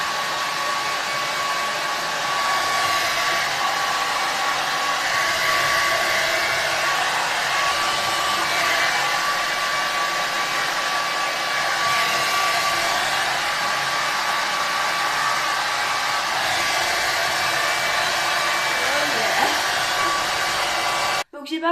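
Hair dryer blowing steadily on hair being dried for straightening, a loud continuous close whir with a steady tone, cutting off abruptly at the end.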